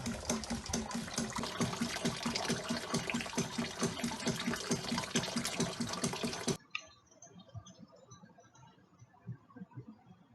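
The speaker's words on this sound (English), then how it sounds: "finally the water come out from the aquaponic tube" Water gushes steadily from an aquaponic tube fed by a ram pump, a loud continuous flow with rhythmic surging pulses that cuts off sharply partway, leaving faint drips and trickles.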